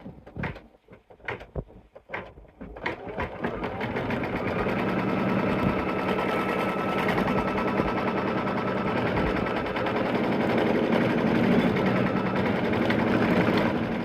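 An embroidery machine stitches a tack-down line on pillow fabric, starting after a few clicks and knocks and then running as a loud, steady, close mechanical whir that holds to the end.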